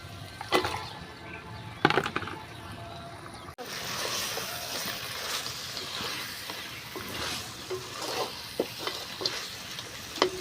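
Chicken pieces go into hot spice masala in a pan and are fried and stirred, a steady sizzle broken by scraping spatula strokes and occasional clacks, close and continuous without talk.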